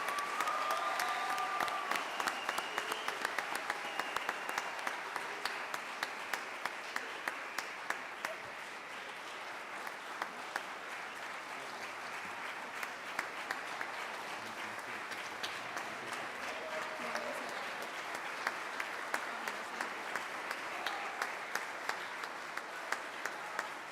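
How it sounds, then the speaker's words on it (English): Sustained applause from a graduation ceremony audience for an eighth-grade class, a dense steady wash of many hands clapping that fills the hall for the whole stretch, with faint crowd murmur and no clear speech over it. "Can we please get one more huge round of applause for Mrs. Thamer and Ms. Bertram for putting"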